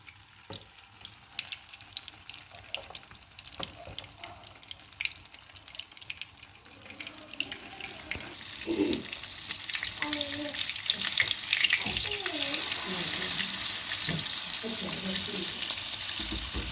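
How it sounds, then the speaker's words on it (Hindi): Egg-dipped shami kebabs hit hot oil: quiet clicks and handling at first, then a crackling sizzle that builds and stays loud and close through the second half, with a little talk. "अब हम बाकी के कबाब भी कर लेते हैं कुछ फ्राई"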